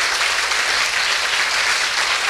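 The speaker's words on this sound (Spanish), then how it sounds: "Dele ese fuerte aplauso al Señor." A church congregation at a Nazarene service applauds loudly and evenly, a dense steady wash of many hands clapping with no pause.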